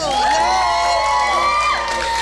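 A pageant crowd cheers for the winner, a dense wash of shouting and whooping voices that stays loud and steady throughout.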